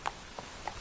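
Horse hooves clip-clop in Witcher 3, three faint, evenly spaced hoofbeats over a quiet background.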